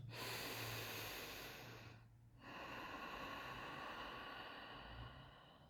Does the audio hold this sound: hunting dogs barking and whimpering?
no